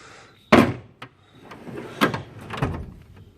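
Drawers of a Husky 52-inch metal toolbox, some of them broken, sliding and knocking shut in a few sharp, close bangs and rattles separated by short quieter pauses, with no talking.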